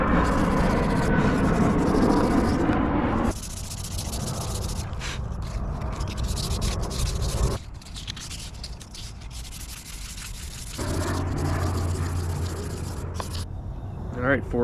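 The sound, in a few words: sanding axe handle with 400 grit sandpaper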